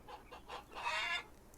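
A rooster in the Farmer's Dynasty farm game gives a short run of soft clucks building into a brief louder call, quiet and alone.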